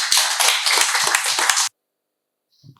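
An audience applauds to welcome a speaker at a talk on green hydrogen, a dense burst of clapping lasting under two seconds, then cutting off to near silence.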